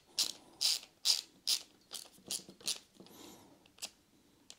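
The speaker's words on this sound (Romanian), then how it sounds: "Mi se pare că mecanismul de clicket este destul" The ratchet of a Xiaomi ratchet screwdriver with a bit extender clicks in a quick series of crisp, close metallic ticks, about ten evenly spaced clicks over several seconds with no one speaking.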